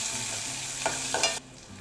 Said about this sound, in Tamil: வெந்தயம், ஜீரகம், 2 பச்சை மிளகாய், வெங்காயம் சேர்த்துக்கலாம். எல்லாம் சேர்த்து வதக்கிக்கலாம்.